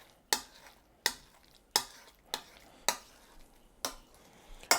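Spatula strokes fold a vegan mixture around a frying pan, six sharp scraping pushes spaced about a second apart, each trailing off into a soft sizzle, close and fairly quiet with no voices.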